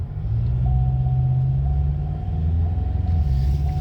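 Ford Ranger T7 pickup engine rumbling steadily from inside the cab while driving, a low continuous drone with a slight dip near the middle where the gear change jerks, no talking.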